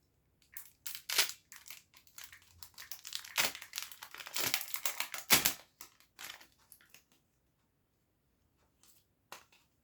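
A plastic wrapper on a collectible card packet crinkles and tears open in close, sharp bursts of rustling over several seconds. The crinkling then fades to near silence with one brief final rustle.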